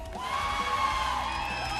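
An audience at an MPL Malaysia esports match cheers and whoops, a loud, steady roar of crowd noise with some tonal sounds running through it.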